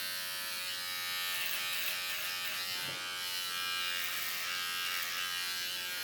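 An electric beard trimmer fitted with a snap-on shaver head runs continuously up close, a steady high-pitched buzz with one brief change in load partway through.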